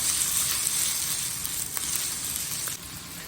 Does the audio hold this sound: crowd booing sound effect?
no